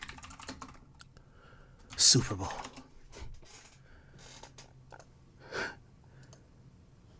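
Computer keyboard typing and mouse clicks ring out as someone searches online, with a burst of clacking keys and scattered clicks amid brief muttered speech and breathing, close and fairly loud.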